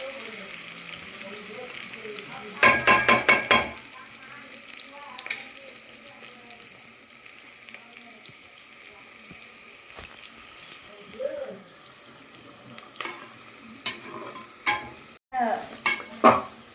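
Raw onions frying in hot oil in a pan until browned for chicken biryani, with bursts of stirring and clattering utensil scrapes over a low steady sizzle, nearby and moderately loud.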